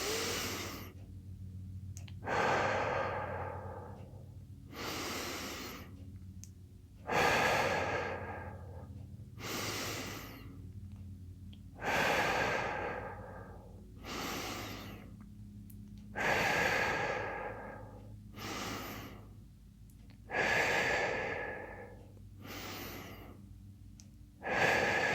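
Slow, deep breathing from a person lying down during a home fitness cooldown, about nine long, loud, close exhales in a steady rhythm, each followed by a quiet pause.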